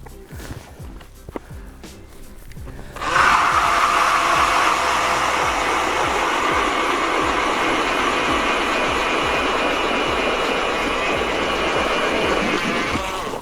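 Battery-powered electric ice auger boring a hole through frozen lake ice while ice fishing for walleye: a loud, close, steady motor whine with grinding that starts abruptly and runs unbroken for about ten seconds, after faint crunching footsteps.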